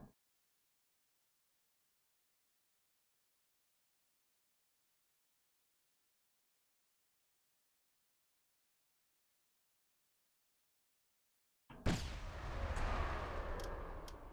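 An explosion in the Thrawn's Revenge: Imperial Civil War video game mod, a sudden loud, rumbling blast that breaks a long stretch of near silence and sustains to the end.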